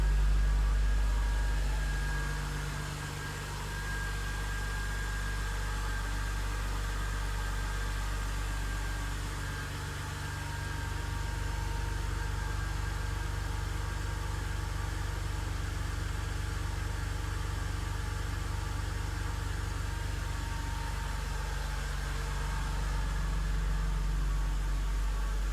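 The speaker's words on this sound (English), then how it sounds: "This is a completely cold start. This is the loudest the car will ever be." 2002 BMW E46 320Ci engine idling steadily on a completely cold start, a continuous low hum with faint whirring, unbroken and without talk throughout.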